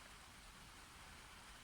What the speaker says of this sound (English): if you can hear a little bit of crumbling in the background, it's because it's just started raining